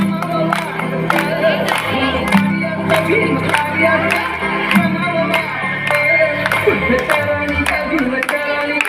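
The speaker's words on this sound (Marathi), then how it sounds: "टाळ्यांचा कडकडाट होत राहू द्या." Audience clapping for a small child at a children's felicitation and cultural programme, a steady rhythmic patter of many hands kept up for several seconds over a sustained musical backdrop with crowd murmur.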